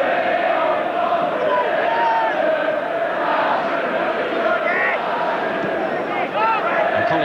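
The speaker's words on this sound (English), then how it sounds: "What a good atmosphere too, a fair-sized crowd." A fair-sized football crowd at a Nottingham Forest home match against Manchester City keeps up a continuous distant roar and chanting, with a commentator talking over it throughout.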